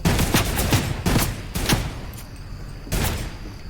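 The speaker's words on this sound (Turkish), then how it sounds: "Ama bak burada taret var." Gunfire from a turret shooting at zombies in the Fortnite video game, with loud rapid bursts of shots, a short pause, then another burst, with no talk over it.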